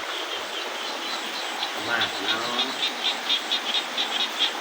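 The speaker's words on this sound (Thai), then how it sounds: "ท่ามกลางเสียงกบเสียงเขียดครับ" Frogs call from a rice field during light, steady rain at a fishing spot. Their rhythmic, repeated chirps pulse over a continuous hiss of rain, with a brief low voice murmuring partway through.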